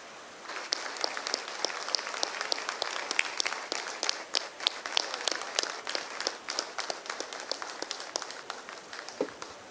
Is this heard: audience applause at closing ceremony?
yes